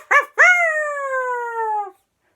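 A human voice imitates a dog: a short yip, then a long, loud, drawn-out howl that slowly falls in pitch and stops abruptly, followed by silence.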